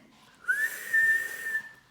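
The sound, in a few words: loud whistle with two fingers in the mouth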